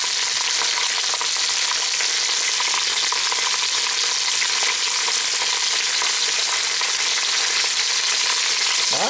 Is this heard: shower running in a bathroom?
no